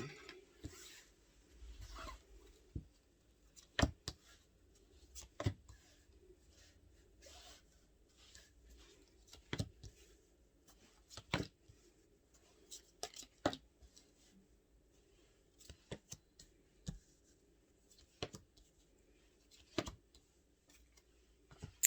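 Tarot cards being shuffled and cut on a table, giving soft papery rubs and sharp riffling snaps at irregular intervals, fairly close and quiet with no talking.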